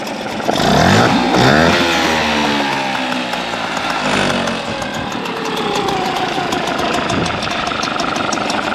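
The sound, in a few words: Hangkai outboard motor engine running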